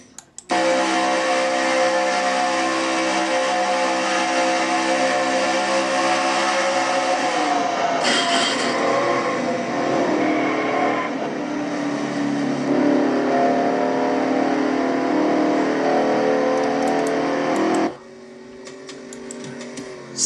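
On-board engine of race car number 00 in a racing video game, a loud sustained high-revving drone with gear shifts and pitch changes, cutting down sharply near the end.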